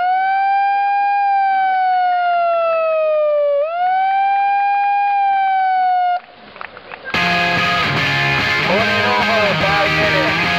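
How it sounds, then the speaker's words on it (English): A loud wailing siren sweeps up and down in long, steady tones, then cuts off abruptly before a burst of dense, noisy music takes over. "On the siren"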